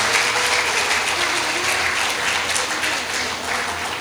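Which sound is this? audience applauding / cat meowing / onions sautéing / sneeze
audience applauding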